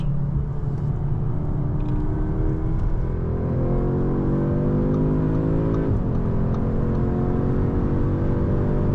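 A 2024 Audi S3 with 333 horsepower accelerates hard, its engine note climbing steadily through the revs with a brief shift dip, loud and close from inside the car.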